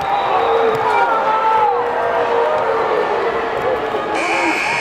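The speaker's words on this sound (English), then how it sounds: "This crowd can't contain themselves, Kevin, with these fouls." A high school boys' playoff basketball crowd roars steadily in a gym, a dense sustained wall of cheering and shouting that stays loud throughout, with a commentator talking over it.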